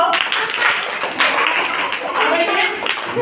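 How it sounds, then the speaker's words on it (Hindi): Hands clap repeatedly during a children's ball-and-alphabet lesson at home, the sharp claps mixed with ongoing speech from people nearby. "देखो एक ताली बजाओ।"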